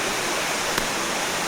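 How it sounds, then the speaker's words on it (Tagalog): Water pouring and showering down steadily inside a cave in Samar, Philippines, a dense continuous rush with no break, fairly loud and close. "Taking shower in the cave."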